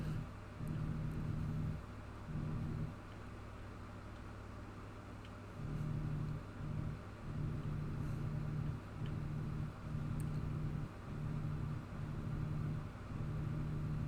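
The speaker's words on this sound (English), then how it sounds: "My truck is so loud. Every time I hit the gas, it's like boom" A loud truck engine rumbles low and steady, swelling in repeated revving surges that pulse on and off across the stretch.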